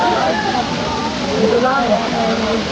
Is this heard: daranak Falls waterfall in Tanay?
yes